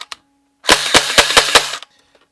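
Nerf Gel Fire Nightfall Uproar blaster firing a rapid burst of about five sharp, loud cracks in quick succession over a whirring motor, preceded by a couple of faint clicks, with no voices.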